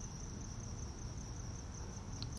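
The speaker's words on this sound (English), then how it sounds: "Just put in a fake cricket. Chirp." A cricket sound effect chirps continuously with a steady high trill over a hissy background, with no talking.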